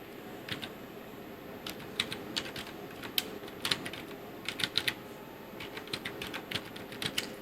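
Steady typing on a computer keyboard while entering a ledger name in Tally Prime accounting software: irregular bursts of close, crisp key clicks, some quicker runs and louder single taps, with no talking.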